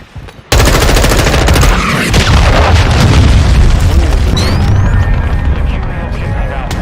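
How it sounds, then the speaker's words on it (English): A cruise missile strike in Call of Duty: Modern Warfare 2 multiplayer, with a loud booming blast that kicks in abruptly and rolls on as dense, sustained rumbling mixed with rapid gunfire crackle. "Hostile cruise missile launched."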